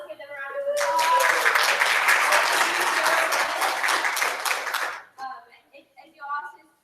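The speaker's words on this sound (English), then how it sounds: "So let's give them a round of applause." Church congregation bursts into sustained applause that swells for about four seconds, then fades, followed by scattered voices and talk.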